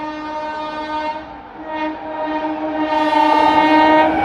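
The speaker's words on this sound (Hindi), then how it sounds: "ये है अमृतसर इंटरसिटी एक्सप्रेस।" Amritsar Intercity Express train passing close by, a sustained loud horn with steady tonal blare swelling toward the end over rolling rail rumble, no voices.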